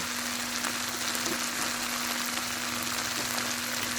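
Thai rice noodles (khanom jeen) frying in a pan, a continuous soft sizzle with faint crackles, steady and fairly quiet, no talking.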